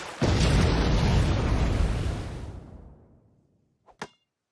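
Cartoon missile launch and explosion effect: a loud sudden blast that roars and slowly fades over about three seconds, followed by two short sharp pops.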